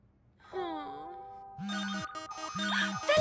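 An electronic emergency telephone ringtone in a cartoon bursts in with repeated ringing pulses, loud and close, after a short sliding tone at the start.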